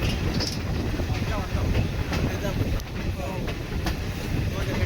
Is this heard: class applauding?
no